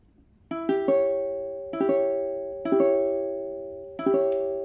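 Piano chords, likely a diminished triad, struck four times with notes entering in quick succession, each ringing and decaying clearly without any talk.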